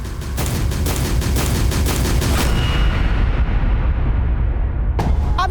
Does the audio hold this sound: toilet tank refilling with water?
no